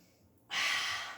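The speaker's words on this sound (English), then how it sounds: "One more breath." A single strong breath during a mat pilates exercise, starting abruptly about halfway through as a loud, airy exhale close to the mic and holding steady before easing off slightly.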